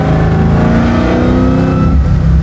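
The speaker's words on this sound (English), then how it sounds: "I'm accelerating out of a turn." A supercharged 1969 Chevy Camaro pro-touring build accelerates out of a turn, its engine a loud, close, continuous roar that climbs steadily in pitch as the revs rise.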